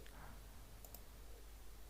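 Two quick, faint mouse clicks on an approve button in a web app, alone over a low steady background hum.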